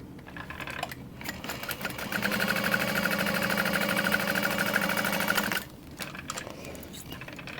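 A domestic sewing machine runs steadily for a few seconds while top stitching a fabric sling, its fast even mechanical whirring and needle chatter starting after a few brief clicks and stopping abruptly, with faint handling noises around it.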